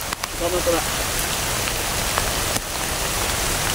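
Rain patters steadily on a surface at night in a rural Philippine setting, a continuous close hiss with a few sharper knocks, while people speak quietly in the background.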